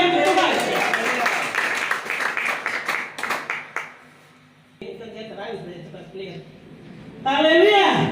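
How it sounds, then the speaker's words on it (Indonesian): A church congregation claps during a sermon, a dense burst of applause for about four seconds that fades out, with a voice speaking over and after it. "Tepuk tangan beri kemuliaan kepada Tuhan."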